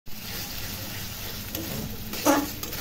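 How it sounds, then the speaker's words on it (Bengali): Food frying in a pan, a steady sizzle with a brief louder burst of stirring or scraping near the end. "ভালো করে ফ্রাই করবো।"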